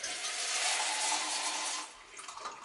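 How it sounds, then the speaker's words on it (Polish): Water poured into the removable tank of a Zelmer Supremo 13Z013, a close, steady splashing stream for about two seconds, then tapering to a few trickles and drips. "on jest ściągany, może naleję wodę, pokażę"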